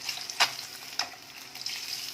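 Chicken eggs fry in hot oil in a pan for egg curry, a soft continuous sizzle broken by a few sharp crackling pops and scraping stirs.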